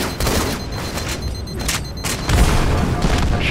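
Grenade blasts and gunfire in a competitive 2v2 shooter match, loud rumbling booms and crackling shots layered densely throughout, close and intense, with a brief voice underneath.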